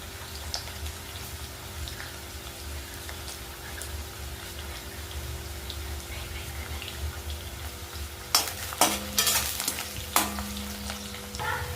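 Rice frying in three ladles of oil in a pan for Marathi-style fried rice: a steady low sizzle with soft stirring, then a cluster of sharp spatula scrapes and clatters near the end, no voices.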